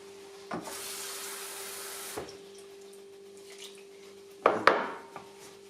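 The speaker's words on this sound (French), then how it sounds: "Là, bien sûr, il manque de l'eau. Je mets de l'eau." Water pours in a soft steady stream into a dish of pizzelle batter, then a brief clatter of stirring against the bowl follows, close and fairly quiet.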